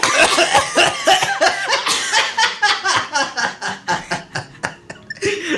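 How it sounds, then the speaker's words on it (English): Several loud, close coughs in a rapid series in a radio studio, mixed with chuckles and laughter from a few people. "let's just end with a couple coughs"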